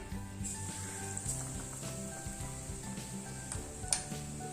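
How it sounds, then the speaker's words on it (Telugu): Bread slices dipped in batter with a potato filling crackle and sizzle in hot oil for aloo bread pakoda, a steady close frying hiss with small popping bursts throughout. "ప్యాన్లో ఆయిల్ వేడెక్కిన తర్వాత డిప్ చేసుకున్న బ్రెడ్ వేసుకోవాలి"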